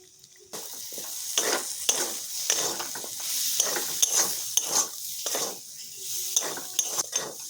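Ground coriander, cumin and chilli powder stir-fried in a pan for a vegetarian pointed gourd curry, with steady sizzling and repeated scraping strokes of a spatula against the pan, close and moderately loud.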